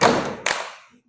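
A burst of hand claps, a quick cluster of slaps then a second sharp clap that fades out, fairly close and loud.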